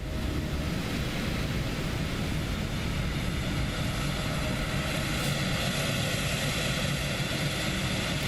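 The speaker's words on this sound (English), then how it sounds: "Wait, the APU is already running?" Auxiliary power unit of a PMDG 777-300ER airliner in the MSFS 2024 flight simulator, a steady, dense, unbroken drone with a hissing whoosh that holds level throughout.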